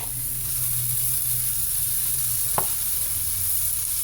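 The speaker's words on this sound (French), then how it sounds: "Il faut remuer régulièrement pour pas que ça grille trop d'un côté et pas assez de l'autre." Tandoori chicken pieces sizzle and hiss steadily in a hot pan, close and loud throughout, with one sharp scrape of stirring partway through.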